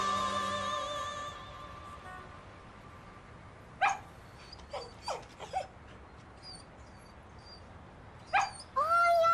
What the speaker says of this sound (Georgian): ლეკვი.